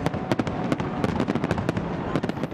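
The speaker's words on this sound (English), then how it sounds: "the midnight fireworks display marked the end of 2016 and the start of the new year" Midnight New Year fireworks in Berlin crackle and pop in a dense, continuous barrage, with sharp bangs rising over a rumbling, crowded background.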